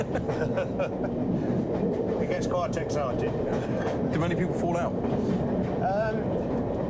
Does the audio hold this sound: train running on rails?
yes